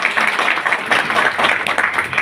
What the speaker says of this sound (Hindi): जहाँ हो वहाँ तालियां कम बज रही हैं